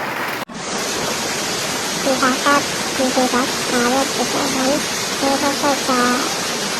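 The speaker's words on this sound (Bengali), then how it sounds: "প্রচুর শিলাবৃষ্টি হচ্ছে আমাদের পাকুন্দে" Hail pours down in a dense, steady roar that fills the air in Pakundia, with a voice speaking in short bursts over the din.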